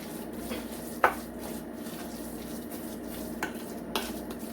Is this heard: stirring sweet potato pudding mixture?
yes